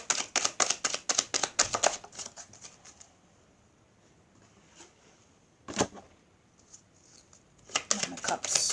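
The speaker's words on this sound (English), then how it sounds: "One more shuffle." Tarot cards are shuffled in quick papery riffles and flutters, in a busy burst at the start, a single brief one in the middle and another run at the end, with quiet gaps between.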